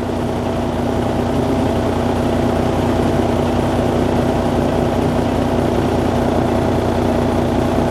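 A semi truck diesel engine idling right after an oil change, a steady low rumble with a constant hum, close and loud, unchanging throughout with no voices.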